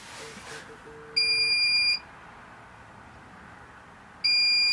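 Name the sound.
electronic unit beeping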